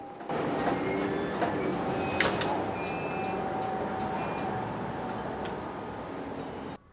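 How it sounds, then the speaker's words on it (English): Long freight train at a road crossing, a steady rolling rumble with squeals and faint clanks of wagons as it slows, continuous and fairly close until it cuts off near the end. "the train came to a halt again"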